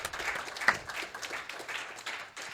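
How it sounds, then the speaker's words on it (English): A canned applause sound effect triggered by an accidental button press, a short, fairly quiet burst of clapping that rattles on for a couple of seconds. "He accidentally hit the applause."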